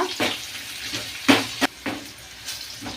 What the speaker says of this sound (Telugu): ధనియాలు జీలకర్ర మెంతులు ఇవి కొంచెం ఫ్రై అవ్వాలా